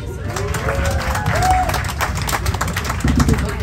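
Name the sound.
audience applause on cog railway train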